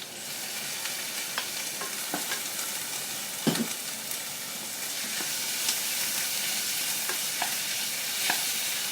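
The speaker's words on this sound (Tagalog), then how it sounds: "Gisa-gisa lang po tayo, napakadali po." Meat sautéing and being stirred in a hot pan for a honey curry, a steady loud sizzle throughout with scattered clicks of the utensil against the pan.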